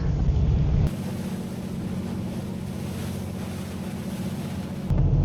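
The fishing boat Gyeongju-ho heads out on the East Sea for cod fishing, its engine droning steadily under a constant rush of wind and water, loud and close, with no voices.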